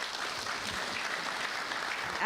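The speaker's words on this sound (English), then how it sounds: "let's just recognize the presence of these dignitaries by a round of applause" A broadcasters' convention audience applauds dignitaries in a steady, even wash of clapping that holds at moderate level without pause.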